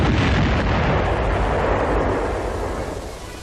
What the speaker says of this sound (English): More firing is required because the rockets were fired too high.